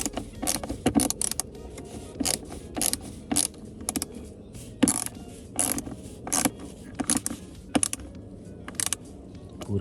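A screw being tightened on the plastic glovebox release handle of a Land Rover Range Rover: a series of sharp, close ratcheting clicks in irregular bursts, with short pauses between turns, over a quiet background and with no talk.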